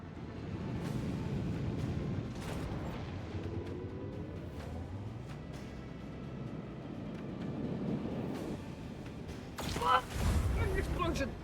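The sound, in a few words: explosions in video game Warhammer 40k Rogue Trader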